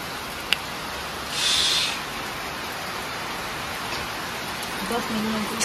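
Steady rain hisses evenly in the background, swelling briefly for a moment, with a faint voice near the end.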